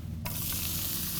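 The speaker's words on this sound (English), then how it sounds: "Get that sizzle." Mushrooms hit oil in a smoking-hot cast iron pan and burst into a loud, steady sizzle that starts abruptly and holds, close by.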